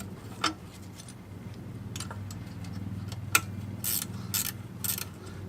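A ratchet wrench clicks as it loosens a 10mm chain guard bolt on a Can-Am DS70 quad, close ratcheting bursts and a few sharp metallic ticks over a low steady engine-like hum.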